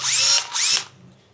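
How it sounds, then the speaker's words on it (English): Power drill spinning a brush attachment to scrub Land Rover Discovery suspension parts, track rod ends and anti-roll bars, in two loud close whirring bursts with a short pause between, then a quick wind-down. "grab my brush now on the drill"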